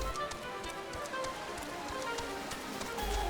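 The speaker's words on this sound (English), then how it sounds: "Raining here in the Shroud." Rain falls in the Shroud forest in Final Fantasy XIV, a soft patter of droplets with scattered light taps over a faint steady hiss, quiet and without any voices.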